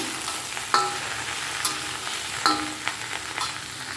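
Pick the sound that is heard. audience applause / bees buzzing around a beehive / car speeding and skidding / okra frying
okra frying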